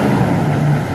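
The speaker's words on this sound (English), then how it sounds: "Loud truck." A truck passing on a city street gives a loud, dense roar of engine and road noise that fills the whole short moment, with no talking over it.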